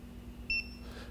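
A single short electronic start beep from a LaserPET II electronic target, a clean tone lasting about a tenth of a second that stands alone over a quiet room hum.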